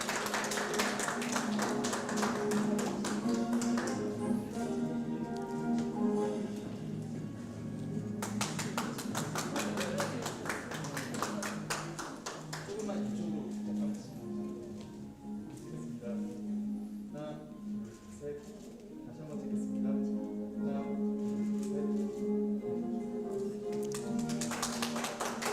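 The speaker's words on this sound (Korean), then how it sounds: "자, 큰 박수 부탁드립니다." Applause at a Korean health and medical technicians' day award ceremony, with clapping alongside bursts of music and background sound over about twenty-five seconds, swelling and fading in waves.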